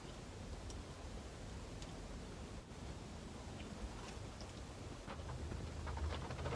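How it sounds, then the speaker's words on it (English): Light rain beginning to fall outdoors, a soft, steady hiss scattered with faint tiny patters and ticks, quiet and continuous throughout with no voices. "Starting to rain."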